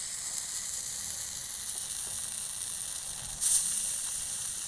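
River catfish pieces sizzle steadily in hot oil on a small tawa, a continuous loud hiss with a brief surge near the end, no talking.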